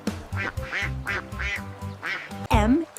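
Cartoonish duck quacks from a children's alphabet song come in a quick run of three over a bouncy musical backing, ending on a louder, stretched final quack.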